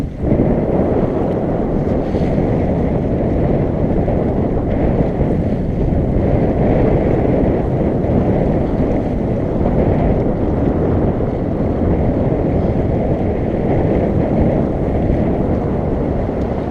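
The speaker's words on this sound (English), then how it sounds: "I didn't expect this kind of wind at all." Strong nor'easter wind while out sailing roars steadily across the microphone, a loud continuous rush with water and hull noise beneath, no voices.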